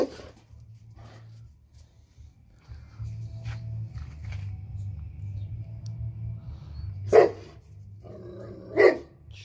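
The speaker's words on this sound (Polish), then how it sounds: "Cicho, piesku, cicho." A dog growls low and steady, then lets out two sharp, loud barks close by, with brief quiet spells between.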